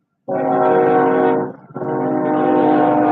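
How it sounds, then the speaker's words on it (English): A train horn blasts loud and near in two long sustained blows separated by a brief dip, harmonically rich and steady, with no talk. "Train."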